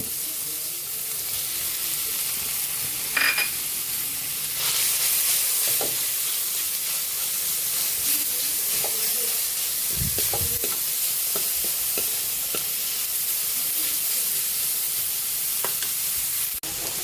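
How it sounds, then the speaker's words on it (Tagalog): Ground meat with garlic, onion and tomato sizzling steadily in a pan, a constant close frying hiss with occasional stirring scrapes and small clinks, no talking. "Nagisa na po yung bawang sibuyas, kamatis at giniling."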